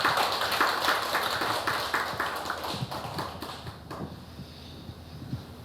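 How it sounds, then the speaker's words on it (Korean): Indoor audience at a Catholic colloquium on suicide prevention clapping to welcome a priest to the podium, a dense burst of hand claps that thins out and fades after about four seconds. "자, 박수로 맞이해 주십시오."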